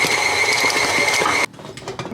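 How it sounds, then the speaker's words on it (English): A stand mixer runs on its stir setting, whirring and churning buttercream as heavy whipping cream streams in, before the loud motor abruptly cuts out, leaving quieter clinks. "I'm just gonna turn it on stir and then stream in some heavy whipping cream"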